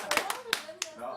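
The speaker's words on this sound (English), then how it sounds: "Everybody clap your hands." A handful of sharp hand claps, about five spaced irregularly over a second, with voices chattering underneath in a room where a children's dance song is being learned.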